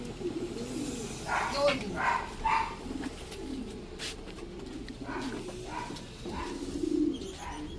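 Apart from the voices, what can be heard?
racing pigeons arriving and cooing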